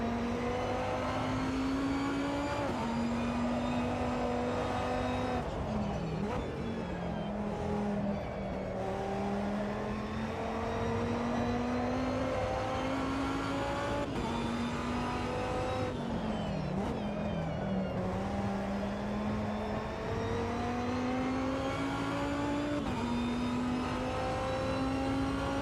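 A race car engine in Automobilista 2's 2005 endurance racing pack howls steadily up close. It climbs through the revs, then drops sharply on downshifts and braking before rising again, repeating lap after lap.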